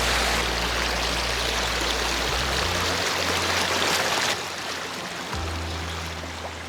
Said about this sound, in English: except for the sound of water slipping over the stone